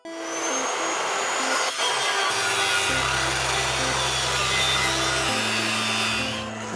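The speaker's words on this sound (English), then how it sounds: "I'm gonna go get the Sawzall." A Sawzall reciprocating saw cuts with loud, continuous rasping strokes close by, its pitch shifting as the cut goes on.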